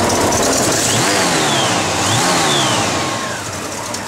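A 1972 Chevrolet C10 pickup truck engine running on the road, a loud close mechanical drone that rises and falls in pitch as it revs through gears, easing slightly near the end.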